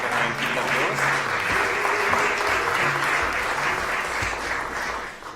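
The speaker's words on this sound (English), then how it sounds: "vous pouvez faire un petit applause" Audience applause fills a conference hall as a speaker is invited on stage at a European conference, steady dense clapping throughout with faint voices and low hum beneath.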